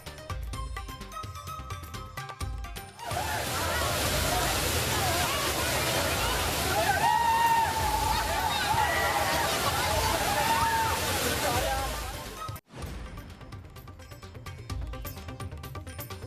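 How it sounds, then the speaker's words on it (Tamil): Roaring waterfall where families crowd to bathe in the pouring water, a loud continuous rush of falling water with splashing, framed by a news presenter talking before and after. "ஆர்ப்பரித்து கொட்டும் தண்ணீரில் ஆனந்த குளியலிட்டு உற்சாகம்."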